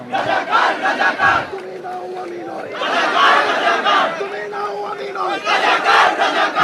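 A protest crowd at Dhaka University chants slogans in loud, rhythmic unison, many voices rising and falling together in repeated bursts, close and dense with shouting throughout.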